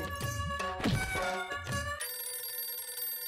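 A telephone rings with a steady electronic tone, loud and close, following a burst of busy background music and sound effects.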